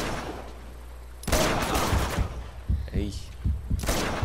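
Bursts of gunfire from the video game Uncharted 2, a heavy volley kicking in after a quiet start and recurring in sharp clusters, with a player's voice talking over the shots.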